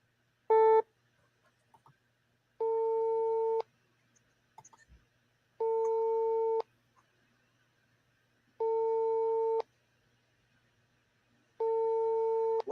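Unusual phone ringing tone: a steady electronic beep pattern in one-second pulses repeating about every three seconds, five tones with quiet clicks between, clear and alone.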